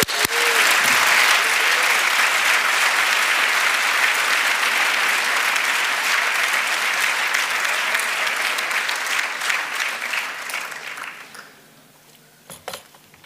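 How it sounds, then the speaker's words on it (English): A graduation audience at an MBA and EMBA ceremony applauds in loud, dense, continuous clapping that holds for about ten seconds, then thins out and fades to a few scattered claps. "please give yourselves a round of applause and thank you everyone for being here."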